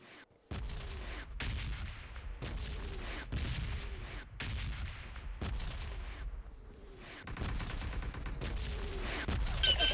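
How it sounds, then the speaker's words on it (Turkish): Air strike explosions in the PUBG Mobile battle royale game: a rapid series of loud, heavy booms roughly every second, each with a rumbling tail, ending in a denser, continuous barrage with no talking. "Kendi hava saldırıma patladım."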